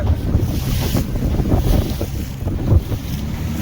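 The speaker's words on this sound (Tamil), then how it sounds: "நிற்க முடியல காற்று ஓவரா இருக்கு" Strong wind blows steadily over the sea beside Pamban bridge, roaring and buffeting the microphone, with surf rumbling underneath and no voices.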